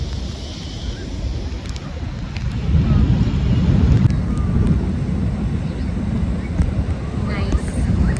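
Gusty wind buffets the microphone at Zushi Beach in Kanagawa, a rough low roar that swells midway and keeps rushing steadily, with faint surf underneath.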